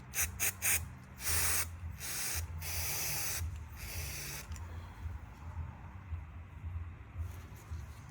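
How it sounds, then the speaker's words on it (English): Several short bursts of copper grease spray hiss in quick succession onto a Ford Focus Mk2 brake caliper bracket, followed by a longer continuous spray, close by. "So I use a copper spray on the brake caliper holding bracket"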